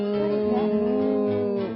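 A human voice imitates a cow's moo with one long, steady, low lowing call lasting almost two seconds, close and clear with no other sounds.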